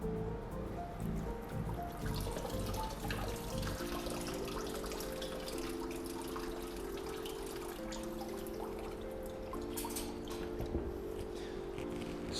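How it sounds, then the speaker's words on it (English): Water drips and trickles off a Platycerium staghorn fern freshly dunked in a seaweed and biofungicide solution, a steady patter close by over a continuous tonal hum in the background. "let the water drip off"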